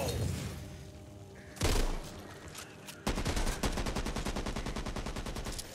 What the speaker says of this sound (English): Okay, who are you guys shooting at?